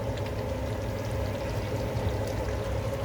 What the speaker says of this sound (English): I have blended my dal. This is how it should be, liquidy. So I'm adding my dal now.